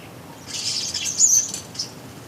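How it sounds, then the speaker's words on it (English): Wood pigeon's wings flap in a short burst as it bluff-charges a garden bird feeder where starlings gather, a soft feathery whoosh rising for about a second and fading, with faint chirps around it. "He bluff charges the feeder to try and frighten off the starling."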